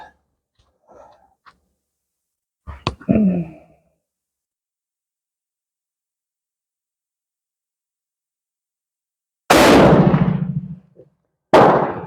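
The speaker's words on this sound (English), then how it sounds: "I'm going to shoot the target on the right." Two sharp, loud rifle shots from a Krag Springfield arsenal rifle ring out near the end, each a sudden blast with a short decay. Before them come faint handling clicks and a short burst of sound, with long silence between.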